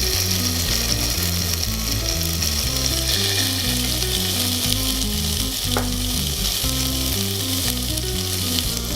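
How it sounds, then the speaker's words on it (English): Tandoori salmon kebab skewers sizzle in a hot, lightly oiled pan, a loud steady frying crackle running unbroken alongside a low rhythmic mechanical pulsing. "heat the pan, touch of oil. Place the salmon."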